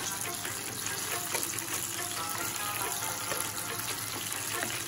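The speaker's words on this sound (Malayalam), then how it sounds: "ബാക്കിയുള്ള പഴം കൂടി അങ്ങനെ പൊരിച്ചെടുക്കാം" Banana fritters (pazham pori) in batter fry in hot oil, giving a continuous, fairly quiet bubbling sizzle that holds steady throughout without speech.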